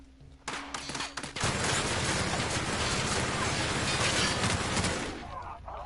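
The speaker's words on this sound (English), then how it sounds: "Who's shooting at me?" Gunfire in the sci-fi role-playing shooter The Outer Worlds, opening with a few sharp shots and then a dense, sustained barrage of rapid fire that tapers off near the end.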